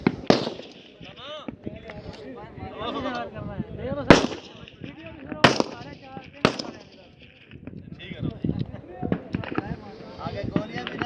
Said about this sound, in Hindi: तसल्ली से फायर करना।